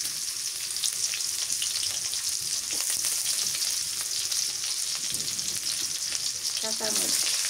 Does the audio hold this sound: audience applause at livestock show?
no